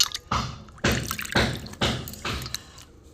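Hot water splashes and drips off cabbage leaves lifted from the pot, coming as four separate close, wet bursts with short pauses between them.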